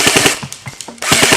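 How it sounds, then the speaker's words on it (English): Cyma M1A1 Thompson airsoft gun firing in loud, rapid full-auto bursts, a brief pause breaking two strings of shots, close and harsh with no talking. "This thing is the loudest airsoft gun I have ever heard in my life."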